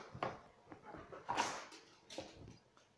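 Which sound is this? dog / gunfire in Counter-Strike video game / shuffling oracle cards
dog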